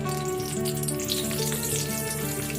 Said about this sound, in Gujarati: આપણે એને વધારે તરવાનું નથી, બસ તેલમાં ફેરવીને તરત જ કાઢી લેશું.